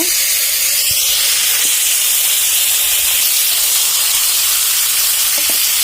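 Fish and ingredients frying in hot oil in a pan, a steady broadband sizzle and hiss running throughout at close range, with a few faint knocks underneath.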